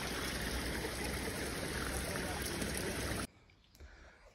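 Clear mountain stream water rushes steadily during the Uttarakhand monsoon, a dense close broadband flow that cuts off abruptly near the end, leaving faint ambience.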